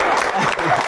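A studio audience claps briefly at an Amharic quiz show, with a short burst of applause under a speaking host.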